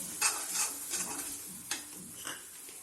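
Cream is stirred into paneer butter masala in a pan, a soft scraping stir with a few light clinks against the sides under a faint sizzle, close and steady with no talk.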